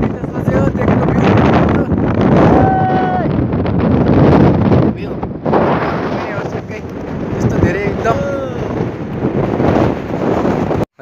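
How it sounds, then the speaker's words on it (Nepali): Strong wind roars and buffets the microphone at Kagbeni in Mustang, Nepal, loud and almost unbroken for the whole stretch, with a voice partly audible beneath the gusts. "यस्तो बबाल हावा छ नि यहाँ"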